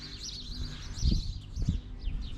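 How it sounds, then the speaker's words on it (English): Birds chirp and tweet steadily in the background outdoors, high quick calls repeating through the clip, with some low thumps and rumbles underneath. "We got the birds chirping in the background."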